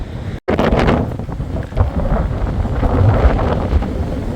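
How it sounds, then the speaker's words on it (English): Strong wind buffets the microphone on an exposed mountain ridge along the Appalachian Trail, a continuous loud roaring rush with gusts swelling and easing, briefly cutting out near the start. "It's pretty breezy up here. I'm sure you can hear the wind"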